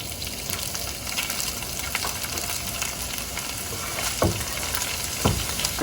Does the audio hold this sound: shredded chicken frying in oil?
yes